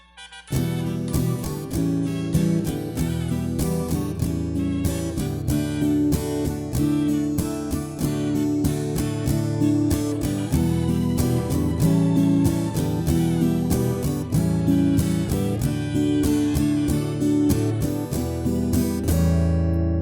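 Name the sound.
guitar chord strumming demonstration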